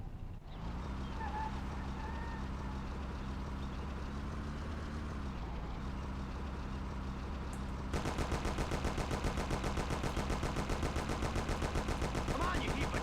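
Thompson submachine gun fire in the Mafia video game breaks out in rapid, dense bursts over a droning car engine during a chase, the shots starting partway through and continuing steadily to the end.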